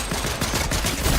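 A one-shot mythic weapon firing in Fortnite, a single dense burst of gunfire with a sharp, loud blast and rumbling tail filling the short moment.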